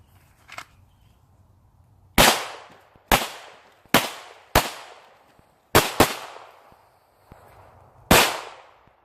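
Handgun shots fired during a home defense drill, loud sharp cracks in a rapid series of about seven over several seconds, some in quick pairs, ringing out with a short decay and no talking.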